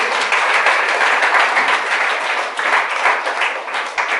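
A church congregation applauding to acclaim the Holy Spirit, dense continuous clapping from many hands, loud and steady, swelling slightly and never stopping, with no voices over it.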